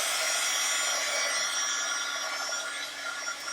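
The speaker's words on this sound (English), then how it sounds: "And it is a heat gun." A heat gun blows hot air to dry a gesso-painted junk journal insert page. A steady, breathy whoosh with a faint whine runs throughout, fairly close and constant, easing slightly near the end.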